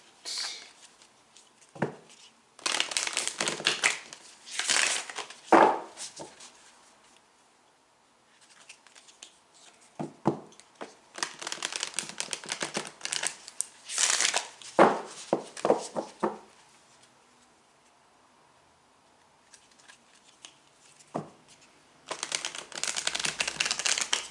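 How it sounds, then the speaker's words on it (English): Tarot cards are shuffled over and over in crisp riffling and slapping bursts, separated by quiet gaps, close to the listener. "we'll shuffle the cards a little bit"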